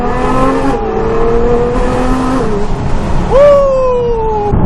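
A 2017 Nissan GT-R accelerating hard, its engine note climbing steadily through the gears with a brief dip at each shift before a sharp, loud final pull, heard close from inside the cabin with the window down.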